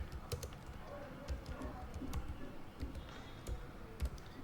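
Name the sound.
typing material group name on computer keyboard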